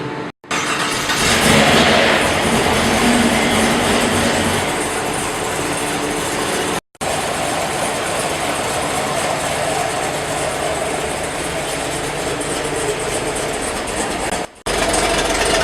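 A new car's engine idles steadily through a dual mode exhaust after start-up, a continuous loud mechanical drone close by with a couple of brief cutouts.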